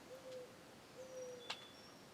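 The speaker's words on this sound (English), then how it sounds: "The morning doves are calling again." Doves call on a winter morning at 7:40 with soft, steady hoots that repeat twice at a distance, a brief sharper chirp between them, and faint outdoor ambience behind.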